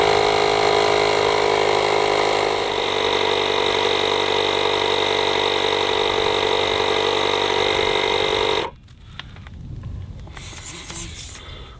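A Milwaukee M12 compact tire inflator, model 2475-20, runs loud and steady with a dense buzzing drone for about nine seconds. It then cuts off abruptly, leaving quieter handling noises.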